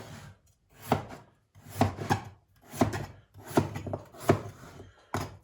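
A knife chops potatoes into large chunks on a wooden cutting board, six rhythmic bursts of thudding cuts about a second apart, close and clear with no talk.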